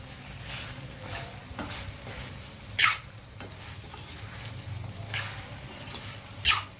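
Chicken and potato pieces cooking in hot oil with salt and chilli powder, a steady soft sizzle with a few sharp scraping clinks of a stirring spoon against the pan, no voices.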